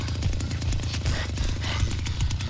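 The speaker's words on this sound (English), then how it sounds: "The chainsaw keeps revving when Grandpa does his thing" In the Texas Chain Saw Massacre game, a chainsaw revs continuously during a glitch, a loud, rough, rapidly pulsing motor drone that holds steady throughout without pause.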